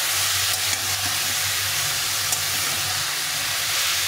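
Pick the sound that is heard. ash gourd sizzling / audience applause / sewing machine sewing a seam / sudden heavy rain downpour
ash gourd sizzling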